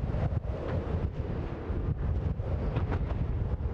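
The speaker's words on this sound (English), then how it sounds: "It's just really gusty winds." Strong gusty wind buffets the microphone on an outdoor football training pitch, a dense, rumbling roar that surges and dips continuously throughout, with no voices.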